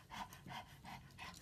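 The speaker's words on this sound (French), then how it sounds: "C'est mon chien qui fait ça" A dog pants in quick, steady breaths, four rhythmic bursts close to the microphone in a quiet indoor room during a makeup session.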